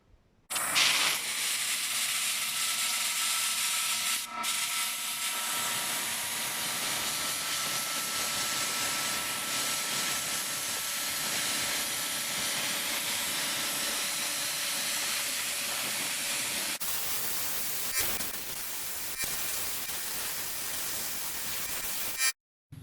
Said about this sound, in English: I transferred the spray to the gun and I'm going to apply it to the car.